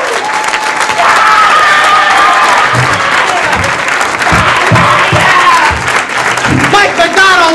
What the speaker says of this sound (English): Please, a nice round of applause for Mr. Tom Kenny.